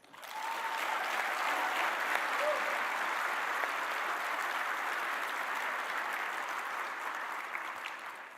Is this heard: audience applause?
yes